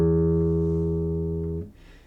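A guitar's open low E sixth string rings out as one sustained, steady note for about a second and a half before being muted, leaving faint handling noise.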